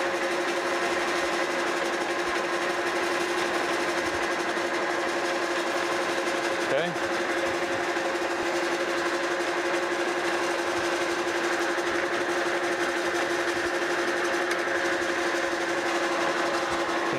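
A lathe turns a new steel ratchet pin for a FAMCO arbor press, fed by hand, giving a steady whining machine hum throughout with a brief word spoken once.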